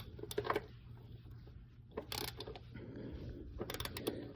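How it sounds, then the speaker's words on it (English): Ratcheting wrench tightening the oil drain plug on a Jeep Renegade, several short bursts of quick metallic clicking separated by pauses, close up and fairly quiet. "Get that plug on there. Get my wrench."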